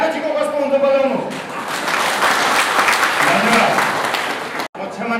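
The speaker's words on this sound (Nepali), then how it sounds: "एक पटक ताली बजाउनुस् सबै" A brief voice at the start gives way to loud, full applause from the crowd at a Dalit intercaste marriage honor program, sustained for several seconds before cutting off abruptly near the end.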